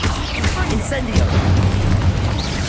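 A fire spell cast in the video game Hogwarts Legacy gives a booming, rushing burst of flame over a dense, low rumbling game soundscape that continues throughout.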